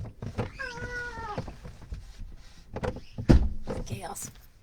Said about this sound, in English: I'm gonna have to shut this window